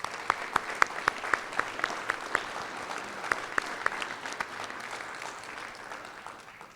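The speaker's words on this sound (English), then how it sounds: "Let's give all of our members another round of applause." A high school National Honor Society audience claps at a ceremony, with a dense patter of hands and a few sharper nearby claps, held at a moderate level before thinning out toward the end.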